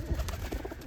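A short, low pigeon coo sounds close by, soft and throaty, heard alone.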